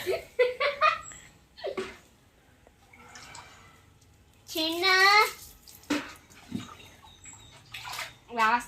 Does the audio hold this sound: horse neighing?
no